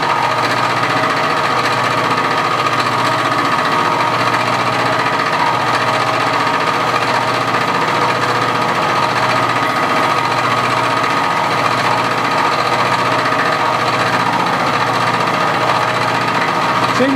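Metal lathe turning a flywheel with a carbide cutting tool, a loud continuous mechanical drone and hum that stays steady for the whole stretch with no talk.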